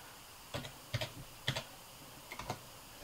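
Keystrokes on a computer keyboard as commands are entered at a command prompt, a handful of separate clicks in small clusters, close and clear over a quiet background.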